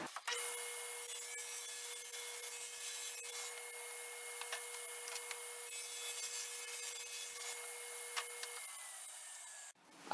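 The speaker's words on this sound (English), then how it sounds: "I'm just going to start measuring width and height and cutting this down and attaching it to the" A saw cuts through wood boards for a DIY fish tank stand, a steady continuous rasping drone that runs nearly ten seconds, close and fairly loud, with no talking.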